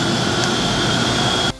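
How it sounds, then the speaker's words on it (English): A powerful hurricane-type dog hair blower roars with a loud, steady rushing whine, then cuts off abruptly at the end. "Use a hurricane blower for the whole body."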